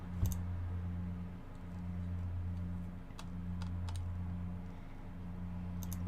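Mouse clicks come in a few sharp, isolated taps during a drawing livestream, set over a steady low electrical hum.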